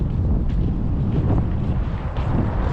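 Steady, heavy cold wind in Canada buffets the microphone throughout, a constant low roar with no pauses.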